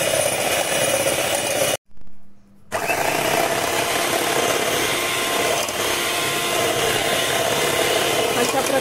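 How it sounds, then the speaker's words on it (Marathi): An electric beater whips cream in a vessel set over ice, giving a steady, loud motor whir that cuts out briefly near the start and then runs on continuously. "त्यावरती हे पातेलं ठेवून बीटर मशीनच्या सहाय्याने"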